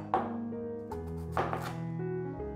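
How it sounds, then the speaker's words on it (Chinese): A knife cutting a washed, unpeeled potato into thin strips on a cutting board, giving a few crisp chopping strikes spaced apart over faint background music, close and clear. "马铃薯切丝"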